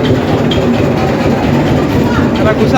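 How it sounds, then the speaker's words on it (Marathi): A toy train at the Elephanta Caves gives a steady, close rumble of rolling wheels on track, with a voice briefly speaking over the noise. "मंडळी, अशी आहे ही टॉय ट्रेन"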